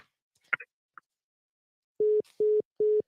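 Telephone tones after a caller hangs up on a radio call-in line: a couple of faint clicks, then three evenly spaced loud beeps, clear and alone.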